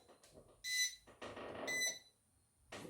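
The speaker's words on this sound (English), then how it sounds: "Just so I can turn this timer off, stop that beeping." Beeping timer on a crafting bench beside a Cameo 4 vinyl cutter, sounding in three loud bursts of high tonal beeps separated by quiet gaps, with faint background noise.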